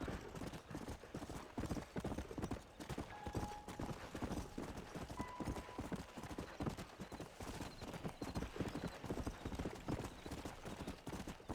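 Dense, steady clip-clop of a galloping horse's hooves in the Red Dead Redemption video game, loud and continuous with faint music tones and occasional brief whinny-like sounds.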